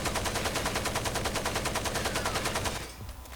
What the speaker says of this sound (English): I'm just going to empty out the clip and see how far the muzzle climbs